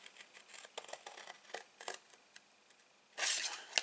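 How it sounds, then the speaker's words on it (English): Paper is cut along a score line with scissors for a small gift box, giving quiet, close snips and rustles in short bursts, ending with a louder crisp crunch. "cut up your score line"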